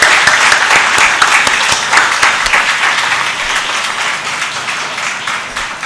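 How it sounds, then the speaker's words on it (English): At a college convocation, a large audience applauds the graduating students in a loud, dense, sustained roar of clapping that slowly fades a little over its length. "I think we can give them one big round of applause before we close"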